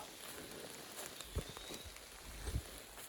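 Rain falls at a wilderness campsite near a river on a fishing and camping trip: a faint, steady hiss with a few soft low thumps, and no voices.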